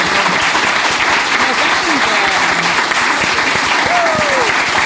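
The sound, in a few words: audience applause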